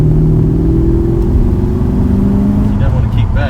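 V8 engine of a truck idling steadily and loudly nearby, with a deep rumble that shifts pitch slightly as it revs, while someone talks over it.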